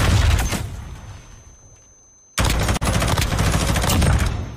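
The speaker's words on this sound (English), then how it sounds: "Priestahh trying to shoot somebody, but most of his bullets is going into the dirt." Rapid bursts of automatic gunfire in a Call of Duty championship esports match, loud dense volleys at the start, a brief quiet gap, then sustained heavy firing resuming abruptly.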